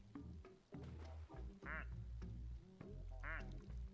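A squeezable toy rubber duck gives several quacks in quick, irregular succession, close and fairly loud over a low rumbling background.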